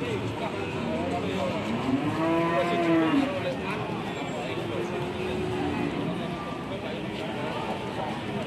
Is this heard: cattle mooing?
yes